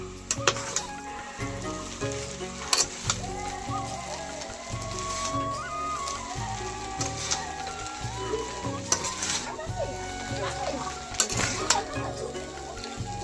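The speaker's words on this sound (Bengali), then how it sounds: "তো আমি নাড়াচাড়া করে নিচ্ছি টপ ক্যামেরায়" Chowmein being stirred and tossed in a pan, with steady scraping and clattering over a continuous low sizzle; no voices.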